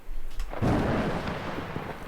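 Thunder from a storm, a deep rolling rumble that swells after a brief lull and lingers loud and close, with no talk over it.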